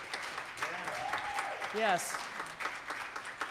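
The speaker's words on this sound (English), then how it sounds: "Let's just give one more round of applause." A church congregation at Unity of Indianapolis claps in a sustained round of applause during a Sunday service, while a voice speaks and calls out over the clapping.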